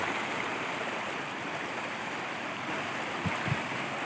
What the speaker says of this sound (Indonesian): Debit air dari sungai langsung masuk ke perkarangan warga.